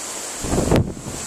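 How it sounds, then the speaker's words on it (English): Wind buffets the microphone in a loud low rumbling gust that swells mid-clip and then eases, with steady airy hiss throughout. "It's really windy here"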